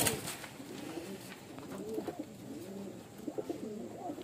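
Flying pigeons cooing in a series of soft, repeated coos close by, with a faint background hum and no talking.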